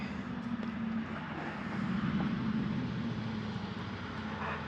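A car coming down a rural homestead road, a low steady engine rumble and tire drone that grows slightly louder as it nears, heard alone without talk.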